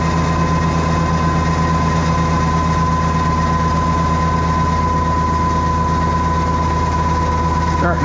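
An engine running under load on a dyno, worked down past 540 rpm: a loud continuous heavy drone with a steady whining tone, unbroken throughout.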